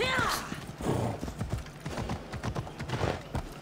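Horse hooves clip-clopping at a quick, uneven pace in Assassin's Creed Odyssey, with a short whinny at the start and a person talking over the hoofbeats.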